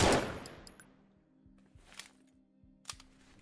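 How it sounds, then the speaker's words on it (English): Automatic gun firing in a low-poly first-person shooter game, starting with a loud burst and then spaced sharp reports with metallic ringing tails, heard alone and fairly close. "That is an automatic gun"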